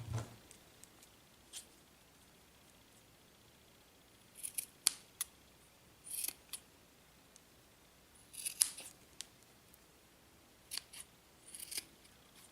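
Scissors snip through crochet yarn during backpack making, several separate crisp cuts in clustered bursts with quiet pauses between, close and fairly soft, no talking.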